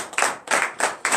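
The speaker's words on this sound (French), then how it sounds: "Donnez l'acclamation à Jésus." Bursts of clapping from a congregation at a morning prayer service in Comè, Benin, coming in four quick rhythmic waves that swell and fade about every third of a second, fairly close and fairly loud.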